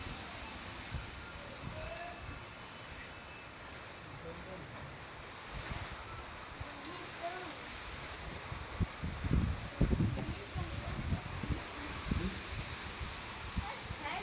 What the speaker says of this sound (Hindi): काफ़ी तेज़ हवा चल रही है